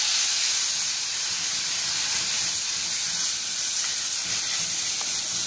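Tomatoes hit hot oil for a brinjal kara kuzhambu, giving a steady loud hissing sizzle that stays even and continuous from start to finish, with no voices.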